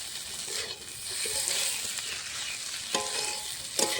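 Fish roe and vegetable chorchori sizzles and fries steadily in a pan, with occasional stirring scrapes and a few louder sputters toward the end, no voices.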